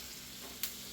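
Onions sautéing in a pan for ginataang bigoy, a steady, soft sizzle of frying with one brief, brighter crackle partway through, heard alone at close range.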